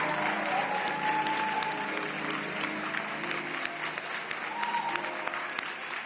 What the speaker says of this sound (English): So, scholars, can we please give our families a round of applause?